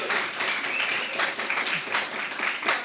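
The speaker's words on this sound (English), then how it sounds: "an extra super hard round of applause to him for letting us use this space this evening" An audience at an arts and culture celebration gives a warm round of applause, a steady wash of many hands clapping close and full, with no speech over it.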